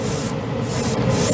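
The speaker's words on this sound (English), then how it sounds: "Well, it likes the Badger airbrush." A Badger airbrush sprays Mr. Hobby aqueous paint over primer in a steady, loud, close hiss with short dips where the trigger eases, and no talking.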